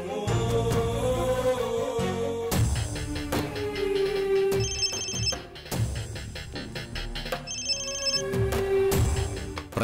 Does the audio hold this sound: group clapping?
no